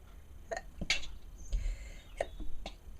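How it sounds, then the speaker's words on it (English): One sharp sneeze, close and loud, with a quick breathy intake before it and a little rustling around it. "I'm really sorry, I'm going to sneeze."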